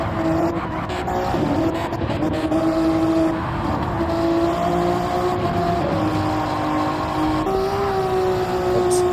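Race cars of the CTC series, including MRL entries, overtaking around the outside on track, with sustained loud engine drone and shifting revs as cars pass closely together, no talk.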